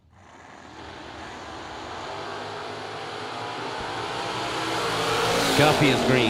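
A Pontiac GTO and a 1967 Camaro launch side by side in a drag race, with a swelling engine roar that builds steadily, gets louder near the end and carries a brief squeal.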